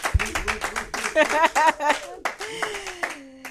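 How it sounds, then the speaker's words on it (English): A comedy and entrepreneur event audience claps in quick bursts while a speaker's voice stays prominent over the short, uneven clapping. "we're going to clap it up for veterans as well"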